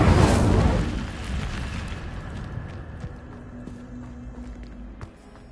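An Incendio fire spell cast in Hogwarts Legacy bursts with a loud whooshing blast of flame that roars at the start, then crackles and fades into a lingering rumble with scattered footsteps.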